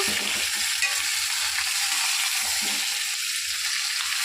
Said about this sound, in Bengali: এবার এটা একটু হালকা করে ভাজা ভাজা করে নেবো।